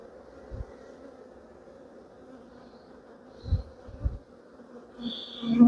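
Honey bees buzz and hum softly around a hive frame lifted during an inspection, a low steady drone with a few louder close passes and brief handling bumps.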